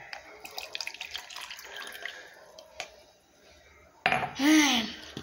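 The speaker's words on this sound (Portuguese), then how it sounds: "E botar água no medidor." Warm water runs from a kitchen tap into a measuring cup, a faint trickle with light clinks of dishes, then a louder gushing stream near the end.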